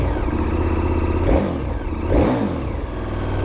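A KTM 1290 Super Adventure S motorcycle with a slip-on aftermarket exhaust rumbles at idle nearby. It is blipped twice into short revving bursts that rise and fall before settling back to a steady idle, with no talking.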